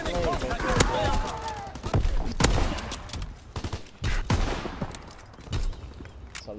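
Gunfire in the Call of Duty WW2 shooter, repeated loud sharp shots and bursts at irregular intervals over a busy battlefield background, with a player's voice and game announcer speech in between.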